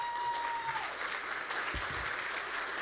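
A large audience at an evening awards celebration applauds steadily, a dense wash of clapping that holds an even level throughout, with a brief tone fading out early.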